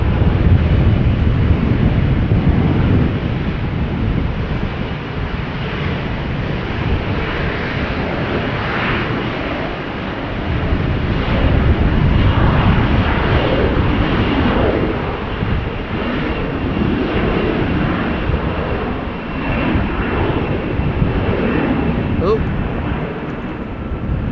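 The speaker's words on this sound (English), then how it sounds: "KLM flight 1959 to Istanbul next. 737-800." A KLM Boeing 737-800 departing Amsterdam Schiphol for Istanbul gives a loud, continuous engine roar with low rumble and wind buffeting, swelling and easing across the whole stretch.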